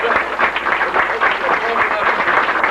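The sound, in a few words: applause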